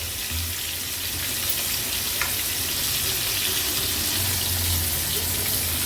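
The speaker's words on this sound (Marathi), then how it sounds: "एक दोन मिनिटासाठी एक बाजू त्याची फ्राय करून घेणार आहोत" Silver croaker fish fry in hot oil over a gas flame, Agri-Koli style, giving a steady, dense sizzle and crackle throughout, loud and close with no pauses.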